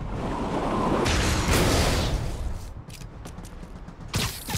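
Gunfire at targets in the video game Marvel's Spider-Man Remastered, a dense, loud rushing burst that fades out, followed by a few sharp cracks and one final loud burst.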